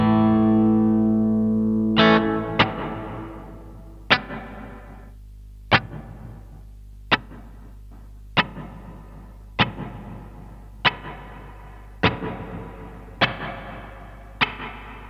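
An electric guitar played through a Marshall RF-1 Reflector reverb pedal in Hall mode: a sustained chord, then a series of single plucked notes at steady intervals, each trailing off in a long reverb tail.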